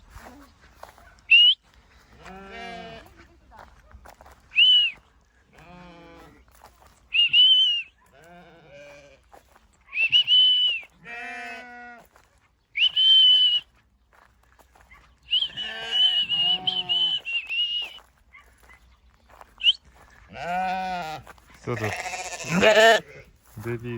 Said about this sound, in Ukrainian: всі. Одні кози.